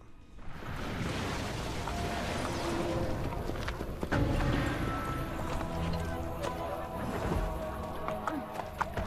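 Horse hooves clip-clop in a quick, uneven rhythm against a dense, busy background of Assassin's Creed: Brotherhood game sound.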